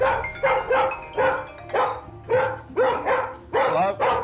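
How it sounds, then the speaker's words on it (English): A dog barks frantically in a rapid series of about ten loud, close barks with brief gaps, a sustained barking frenzy at home. "I knew they had a problem with barking, but that's really, really intense."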